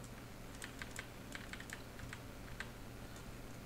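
Quiet, close tapping of computer keys as a command is typed, a loose run of single keystrokes spread unevenly across a few seconds over a low hum.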